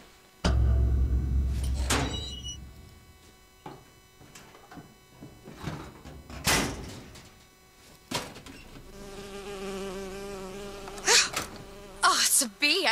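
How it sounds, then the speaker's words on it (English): An insect-like bee buzz in the video game Bioshock Infinite drones and whines on and off, mixed with scattered thunks and knocks from the game. "Oh, it's a bee. I hate these things."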